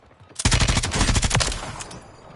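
Rapid automatic gunfire from a video game, a dense burst of loud close shots lasting about a second, then trailing off into quieter echoing reports.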